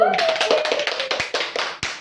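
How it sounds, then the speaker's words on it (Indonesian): Elementary classroom children clap for the winning group in a quick, ragged burst of hand claps, close and fairly loud, mixed with a teacher's voice at the start. "Berarti pemenangnya adalah kelompok kuning. Tepuk tangan dulu."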